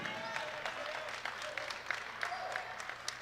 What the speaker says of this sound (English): As Watson got a nice applause from the home crowd.